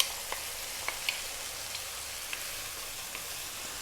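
A can of tomatoes sizzles in a hot pan for tuna pasta sauce, a steady close frying hiss with a few small pops and spatters scattered through it.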